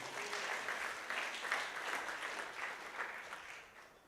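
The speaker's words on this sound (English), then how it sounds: "Round of applause to our MCs." Applause from the audience at a Kenyan project management excellence awards evening, honouring the two MCs: a steady, dense wash of clapping that holds for about four seconds at moderate distance before tapering slightly at the end.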